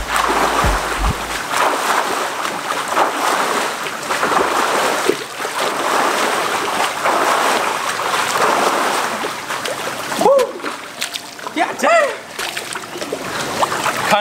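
Water sloshing and splashing in a swimming pool as someone does repeated plyometric jumps, a steady churning wash throughout with brief louder surges and a few vocal sounds near the end.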